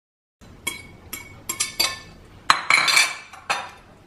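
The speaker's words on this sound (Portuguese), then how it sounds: "Eu vou deitar este pêssego numa panela." Peaches being dropped into a metal cooking pot for a traditional Christmas supper dessert, giving a series of sharp clinks and clatters, loud and close, with a busier cluster of knocks midway.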